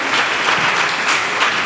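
Church congregation applauding and cheering during a Sunday worship service, a dense, steady wash of clapping that fills the whole short stretch without a break.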